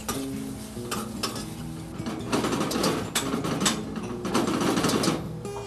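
Onion, pepper and lean beef sauté in a pan, a steady sizzle with scraping stir strokes that grow busier midway, close up and without speech.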